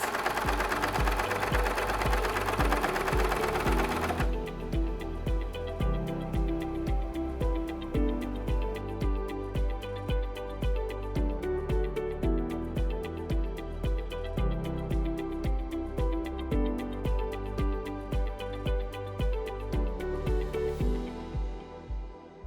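A sewing machine runs steadily for a long stretch, stitching elastic onto a stretchy negative-ease garment sleeve with a zigzag stitch, its rapid mechanical chatter loud and close with a rhythmic pulsing, then stopping at the end.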